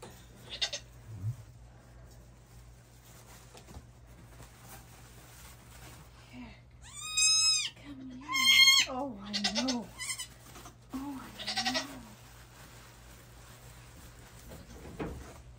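Newborn Nigerian Dwarf goat kid bleating just after birth, a few close, wavering high cries in quick succession midway, with quieter shuffling and faint background noise before and after.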